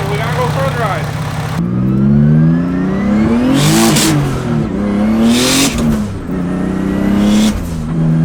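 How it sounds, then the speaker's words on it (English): A turbocharged car engine with a wastegate, warming up before a test drive, revs loudly and repeatedly, rising and falling in several surges with whooshing turbo sounds, over a steady idle; a voice speaks briefly near the start. "I'm just gonna warm it up and then we're gonna go for a drive."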